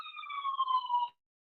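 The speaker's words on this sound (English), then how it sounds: "I was trying to mute that ambulance in the background." An ambulance siren, a single sustained wailing tone with harmonics that drifts slightly downward and then cuts off abruptly, with no speech over it.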